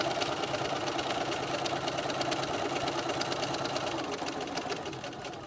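A sewing machine stitches a French seam, running in a steady, fast mechanical whir that continues without a break and eases off slightly at the end.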